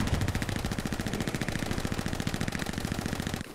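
A machine gun in the World War II shooter Hell Let Loose fires one long, fast, steady burst of evenly spaced shots, loud and close, stopping just before the end.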